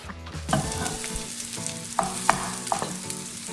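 Ground meat browning in a hot pan for stuffed pasta shells, with a continuous close sizzle broken by sharp spoon clinks and scrapes against the pan as it is stirred.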